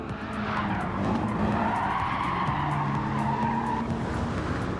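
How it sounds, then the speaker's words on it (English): A race car in Gran Turismo 7 brakes hard and skids, with a sustained tire squeal and screech over a continuous engine drone, loud and close. "This is where I'm braking."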